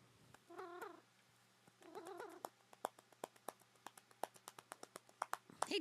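Pet cat named Ranma indoors giving two short meows, followed by a run of quick soft clicks and taps, fairly faint and close.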